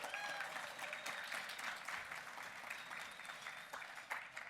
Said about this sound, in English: If we could give them a little round of applause.